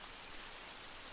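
Steady rain falls in the Labyronia RPG video game, a constant faint hiss of drops without pauses or voices.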